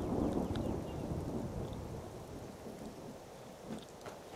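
Steady rainfall from a thunderstorm in the video game Skyrim, a soft continuous wash with low rumbling underneath, fairly quiet and without voices.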